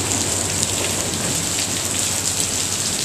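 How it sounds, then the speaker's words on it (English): Heavy rain pours down near a bridge at a fishing spot, a loud, unbroken wash of splashing drops with no voices. "It is pouring right now."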